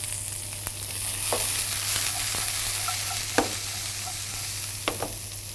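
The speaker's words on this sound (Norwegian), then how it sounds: "Freser vi dette her sammen med rotgrønnsakene i kort tid." Onion and root vegetables are stirred in a frying pan, a gentle continuous sizzle broken by scattered taps and scrapes of a utensil, with no voices.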